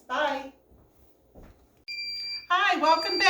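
A kitchen timer goes off during no-knead bread baking, a steady electronic beeping tone sounding alone briefly before a voice talks over it.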